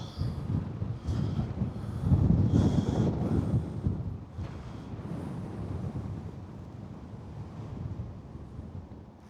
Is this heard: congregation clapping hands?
no